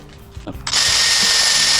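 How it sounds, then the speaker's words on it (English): A power drill spins up after a few soft clunks, drilling out an old wooden hammer handle, then runs at a steady high whine, loud and close. "I'm going to drill this out of here"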